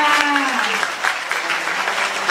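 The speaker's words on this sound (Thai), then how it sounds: "ขอเสียงปรบมือด้วยครับ ขอเสียงปรบมือค่ะ" A crowd at a university arts and culture festival opening ceremony in Ubon Ratchathani claps loudly, a dense, sustained burst of applause filling the short stretch with no pause.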